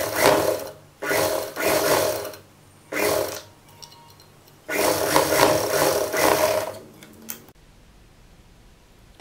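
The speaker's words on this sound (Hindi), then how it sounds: "सिंपल सिलाई लगानी है हमें और हमारी जो ये सिलाई है इस तरफ देखते हुए हम सिलाई लगा लेंगे।" Sewing machine stitching kurti fabric with a simple seam, running in several loud bursts of rapid mechanical whirring separated by short pauses, then stopping near the end with only quiet room tone left.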